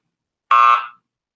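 A single short electronic quiz buzzer, loud and tonal, lasting about half a second before cutting off into silence.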